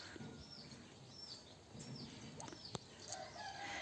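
Chicken and fowl calls, short clucks and a crowing note, over a busy outdoor village farmyard background with birdsong.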